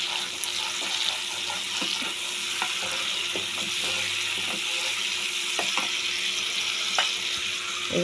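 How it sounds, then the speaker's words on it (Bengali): Spice masala with a little sugar for palak paneer sizzles steadily in a pan while a spatula taps and scrapes at intervals, a continuous close frying hiss under sharp clicks. "মশলাটাকে একটুখানি কষে নেব"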